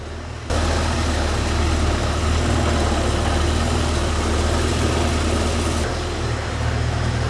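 A junkyard Ford 289 V8 that sat for over 45 years runs steadily on an engine dyno, a loud continuous idle-like drone with no talk, its tone shifting slightly near the end.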